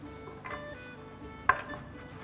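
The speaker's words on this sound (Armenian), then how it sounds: "Իսկ մենք կտրատում ենք ընկույզը։" A knife chopping walnuts on a cutting board, a few soft cuts followed by one sharper knock, close and quiet with no talking.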